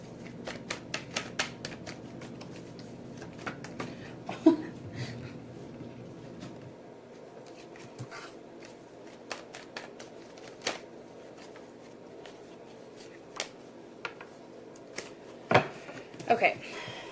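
Tarot cards being shuffled and handled, soft quick riffling clicks and taps in scattered bursts, close but quiet, over a low hum with a faint voice in the background.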